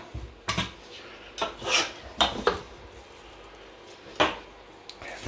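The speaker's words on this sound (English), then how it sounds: "So roll your cling film out." Cling film pulled off a catering roll by hands in rubber gloves while making a sausage and bacon stuffing log on a chopping board: several short, close, crinkly rasping pulls spaced a second or so apart, with no talking.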